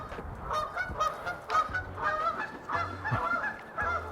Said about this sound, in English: There's literally a goose.